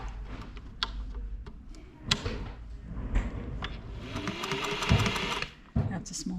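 A Singer 401 sewing machine runs in short bursts of rapid mechanical ticking as it stitches a small zigzag, with clicks and knocks from dial adjustments in between and a voice talking nearby.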